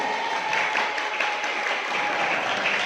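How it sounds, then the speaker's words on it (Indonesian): Steady applause from a school audience at an event at the Islamic junior high school MTs NU 15 Jurangagung, a dense, even wash of clapping that fills the whole moment without pause. "Tepuk tangan untuk kita semua."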